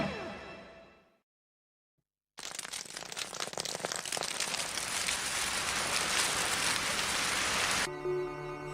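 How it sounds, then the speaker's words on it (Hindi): A brief tonal sound fades into near silence, then a steady, dense hiss of rain starts abruptly and pours on evenly before cutting off. "लीजिए, बारिश शुरू हो गई।"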